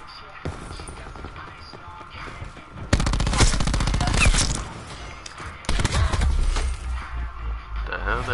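Rapid automatic gunfire from Call of Duty Black Ops 4 zombies mode rattles in two loud, sustained bursts, with quieter game ambience and scattered shots between them.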